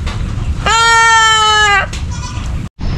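Goat bleating once, a loud, close, drawn-out cry lasting just over a second, with softer bleat fragments afterward over faint background noise and brief rustling.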